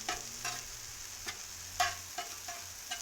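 Fresh mozzarella appetizers cooking in hot oil, a low steady sizzle underneath with sharp intermittent clicks and pops as pieces are stirred and moved around the pan.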